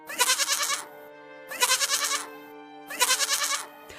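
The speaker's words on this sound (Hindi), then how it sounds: "बकरी की आवाज आने लगी" A goat bleats three times in a row, each call a loud, wavering cry of under a second separated by short pauses, clear and close with no other sounds.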